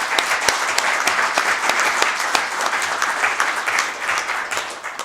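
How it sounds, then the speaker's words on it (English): Dense, sustained applause fills a Winnebago County Board meeting room as members of the public clap for the board members, loud and steady throughout before easing slightly at the end. "give them a round of applause"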